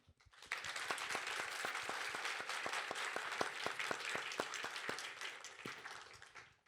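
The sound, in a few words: audience applause for the speakers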